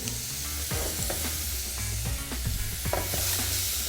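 Garlic, a bay leaf and onion sizzling in extra virgin olive oil in a pan, a steady close hiss with frequent stirring scrapes and knocks, no talk.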